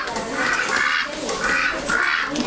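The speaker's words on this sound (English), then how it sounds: "this is a Pekin duck" A white Pekin duck quacking, a run of four raspy, rhythmic quacks close by over steady background noise, with no talking over it.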